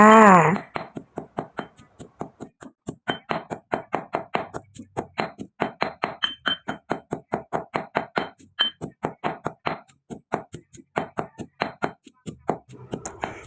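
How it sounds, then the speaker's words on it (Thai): Steady rhythmic thuds of a pestle pounding herbs and garlic in a mortar for a Thai lemongrass chili paste, repeated about four times a second, close and clear, with a brief voice at the start. "เราจะโขลกทุกอย่างให้ละเอียดก่อนนะคะ"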